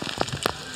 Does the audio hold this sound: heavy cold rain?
yes